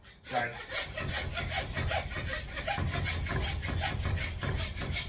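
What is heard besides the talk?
handsaw sawing through beef bone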